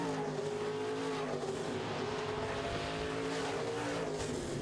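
Midwest Modifieds race cars roar around the oval through turn 4 on the final lap toward the checkered flag, a dense, steady engine drone from several cars with no talk over it.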